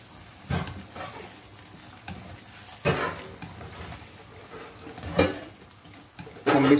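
Mixed vegetables and potatoes are stirred in a pan for mix sabzi, giving a handful of separate scraping, clattering strokes spaced a second or two apart over a quiet, faintly sizzling background.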